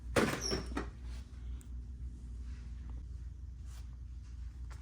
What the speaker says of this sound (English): First, we'll open the door.